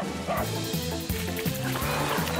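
A cartoon dog barks and yips in a few quick bursts over a busy, bouncy music bed in a children's animated show.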